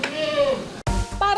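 Dairy goats at a milking stand, fed while being milked, give a couple of bleats, a wavering call early on and a shorter one near the end, heard up close with a voice speaking over them.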